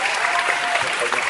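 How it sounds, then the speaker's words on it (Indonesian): Short burst of continuous clapping from a classroom audience at an arts-and-culture education session, dense and steady throughout. "Tepuk tangan dulu buat Kakak Herman ya."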